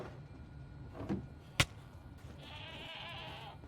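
A goat in Minecraft gives a single short bleat, preceded by a sharp click and followed by a sustained whooshing machine-like hiss from the game.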